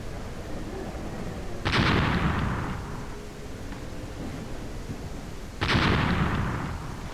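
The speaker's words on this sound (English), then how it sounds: "We're getting a good amount of explosions out of that one." Two loud explosions burst in a video game, one early and one a few seconds later, each a sharp crack that rolls off into a decaying boom over steady background game noise.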